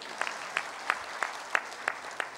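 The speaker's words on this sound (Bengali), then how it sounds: "এটার জন্য নিজেদের জন্য একটা হাততালি দিন" Scattered audience members at a citizens' conference on SDG implementation in Bangladesh clap in slow, evenly spaced single claps, about seven distinct strikes, thin rather than a full ovation.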